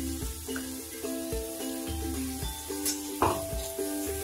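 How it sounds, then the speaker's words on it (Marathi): Ginger garlic paste sautés in oil in a pan for mutton curry, a steady sizzle broken by several stirring scrapes and one sharper clatter of utensil on metal, close by, with no speech. "चांगलं परतून घ्यायचं।"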